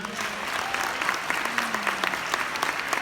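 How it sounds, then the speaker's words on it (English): Audience at a London conference on Muslim community work breaks into applause, brisk dense clapping sustained across three seconds, with a faint voice briefly audible beneath. "Worth a round of applause, yeah?"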